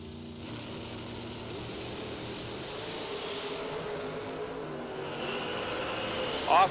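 Drag racing dragsters launching off the starting line at a racing event, engines building to a loud sustained roar that swells toward the end, with a brief sharp sound at the close.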